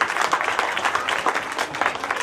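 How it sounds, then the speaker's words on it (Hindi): Enthusiastic audience applause at a Jain temple consecration ceremony, dense steady clapping from many hands filling the space without pause. "जोरदार तालियों से इनका सम्मान करते हैं।"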